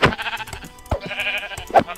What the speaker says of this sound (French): Nice, j'ai des moutons là.